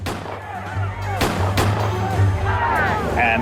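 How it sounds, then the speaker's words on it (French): Several sharp gunshots crack out, a few irregular bangs echoing at a distance, while people talk and shout in the background. "Tout d'un coup, on a entendu plusieurs coups de feu."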